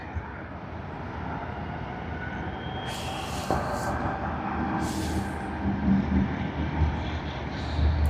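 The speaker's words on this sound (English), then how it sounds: "We do have Link Airways arriving on runway 34L, coming in from Canberra on their Saab 340B Plus." A Link Airways Saab 340B Plus turboprop arrives on runway 34L at Sydney Airport, a distant steady engine rumble building slowly over several seconds, with brief bursts of broadband noise in between.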